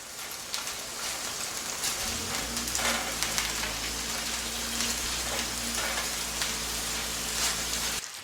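Gyro burger patties sizzle steadily in a hot pan, a dense, continuous crackling hiss that swells to full strength after the first two seconds and holds alone without talk.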